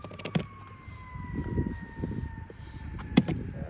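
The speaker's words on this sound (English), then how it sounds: "heard a siren go like that. Not that long with a high pitch noise." A faint, high-pitched siren wails steadily in the distance over low rumbling background noise, with a couple of sharp knocks.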